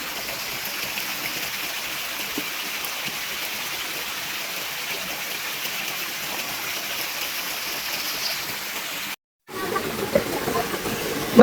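River water rushes steadily where people bathe, a constant broadband stream-like wash held at one level for about nine seconds, then a brief dropout before the flow returns slightly louder.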